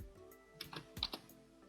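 A few quick keystrokes on a computer keyboard while working in animation software, with soft separate clicks in an uneven rhythm, close and fairly quiet with no talk.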